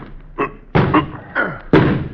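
Men try to force a locked door with several heavy thuds and shoves against it: a light knock, then three loud slamming impacts spaced under a second apart, close by.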